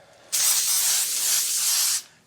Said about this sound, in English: I'm going to use some Baker's Joy, or you can also use some olive oil spray to coat our foil